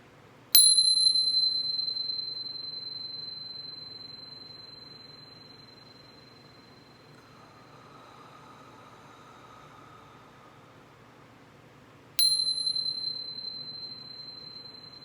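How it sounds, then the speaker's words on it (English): Meditation chime struck twice, each bright metallic ring standing clear then fading slowly over a quiet hiss of background noise, with no talking. "I chime about 3 times, and with each chime, I inhale the sound up to my crown chakra"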